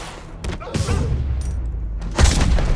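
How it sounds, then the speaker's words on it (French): Gunfire in the Spider-Man Remastered video game on PS5: a few sharp broadband bursts and booming thumps, loud and close, spread across a busy low rumble with voices talking over it. "Je vais tirer!"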